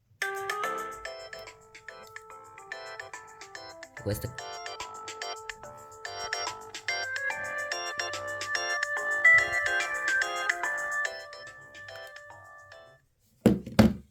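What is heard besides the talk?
ringtone played through iPhone 6S speaker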